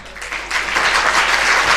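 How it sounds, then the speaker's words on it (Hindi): An audience at a recitation about Queen Padmini's jauhar breaks into loud, close applause that swells after a brief quieter start and stays full for under two seconds, with no voices over it. "आप तालियों का महोत्सव देना"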